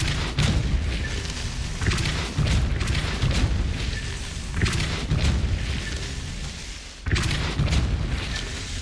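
Depulso spell blasts in Hogwarts Legacy sound as repeated heavy, booming thumps, about four strong hits spaced a second or two apart over a loud, rumbling wash of game sound.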